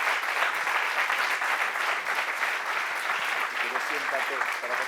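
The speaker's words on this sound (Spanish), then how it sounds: "yo creo que ahora por educación, pues un aplausito" An audience at a talk on quantum supremacy applauds, a dense, steady patter of many hands clapping at moderate volume, with faint murmuring voices mixed in underneath.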